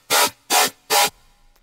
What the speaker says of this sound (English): Today we're going to be making a basic ass dubstep bass